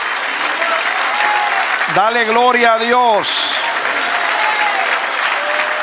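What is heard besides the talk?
congregation applause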